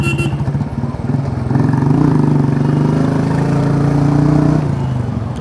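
A scooter engine revs up with a steady, buzzing motor tone that grows louder and holds strong before easing off near the end, close by with no voices.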